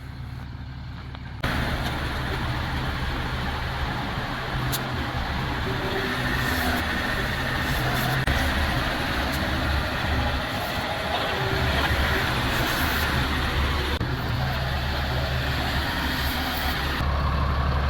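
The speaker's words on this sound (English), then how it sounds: "That is a sharp looking truck and trailer setup right there." A sharp-looking truck and trailer rig delivering a load of metal sheets gives off a loud, steady, close engine rumble with rattling that runs unbroken for most of the stretch, with no talk.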